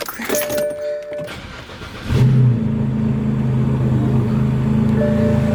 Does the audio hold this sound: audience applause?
no